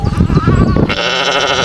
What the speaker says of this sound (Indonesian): ternyata ada domba teman-teman